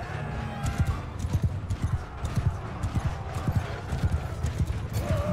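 Horse hooves gallop in a fast, even clip-clop rhythm during a Mount & Blade II: Bannerlord tournament battle, loud and close over a dense background of battle noise.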